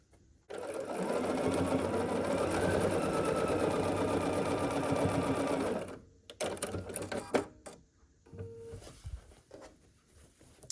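A sewing machine runs steadily as quilt block pieces are stitched together, a loud continuous whirring burst lasting several seconds before stopping, followed by quieter fabric handling and small clicks.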